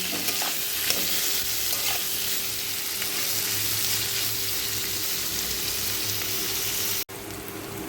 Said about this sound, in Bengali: সেই পেঁয়াজগুলোকেই আমি এর মধ্যে ভেজে নেব সুন্দর করে লাল লাল করে ভেজে নেব পুরোটাই